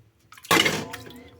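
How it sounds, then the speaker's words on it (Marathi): An oil lamp plunges into water with one sudden splash and slosh, fading over about a second. "ह्याला पाण्यामध्ये असं बुडवायचं"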